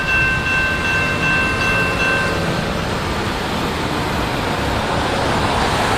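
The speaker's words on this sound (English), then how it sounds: "That's it for the train." A train passes at a road crossing with a long line of vehicles waiting on both sides, producing a broad, steady roar of wheels and cars, loud and continuous with a faint tone early on.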